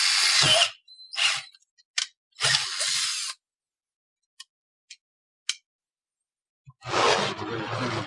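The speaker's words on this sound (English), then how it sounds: "we're now going to drill our holes" Power drill boring holes into a board at the corners of a level work surface, in three loud whirring bursts followed by a few sharp ticks and a final long run as the bit bites through the wood.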